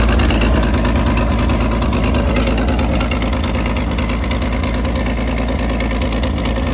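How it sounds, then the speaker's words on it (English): A 1931 Chevrolet Independence five-window coupe engine idles steadily nearby, a continuous even rumble with no voices over it. "here you can hear running along, it's got a nice idle"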